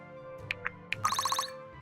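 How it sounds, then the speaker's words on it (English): A stream ad break notification sounds during a game stream, a few short electronic blips followed by a quick rising run of chime tones, bright and close. "I heard the notification that time"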